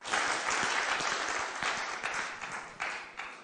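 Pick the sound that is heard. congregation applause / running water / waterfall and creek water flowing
congregation applause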